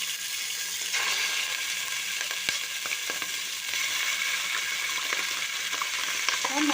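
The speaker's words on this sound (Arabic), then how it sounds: "انا معايا الوقت حطيت 3 معالق زيت ومعايا لحمه" Meat fries in three spoonfuls of oil in a cooking pot for kabsa, giving a steady, dense sizzle throughout with a few faint clinks and stirring noises; no one speaks.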